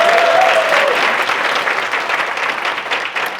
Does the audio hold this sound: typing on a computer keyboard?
no